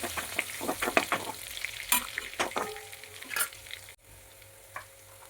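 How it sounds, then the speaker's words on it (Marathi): Chopped garlic sizzles in hot oil while being stirred, close up, with a run of scraping stir strokes and crackling frying that settle into a steady, quieter sizzle after a brief pause. "आता ह्याच्यामध्ये टाकायचं आहे लसूण. तेलामध्ये चांगलं आपल्याला मिक्स करायचं आहे."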